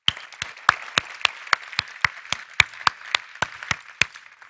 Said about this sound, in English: So a big applaud to all the speakers of this morning.